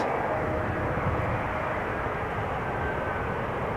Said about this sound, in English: Embraer 190 arriving from Geneva, okay, flight 1930.